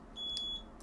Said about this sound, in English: That's my fire alarm that I just,